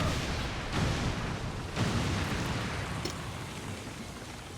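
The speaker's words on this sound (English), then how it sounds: "Detonating charges." Explosive charges detonating in a video game produce a dense, continuous roaring rumble, with a couple of stronger blast surges rising out of the din.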